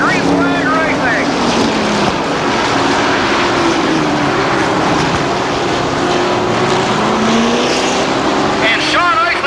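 Pro trucks racing on a speedway under green flag, their engines making a steady, loud roar that rises and falls as they pass, with a race commentator talking over the noise.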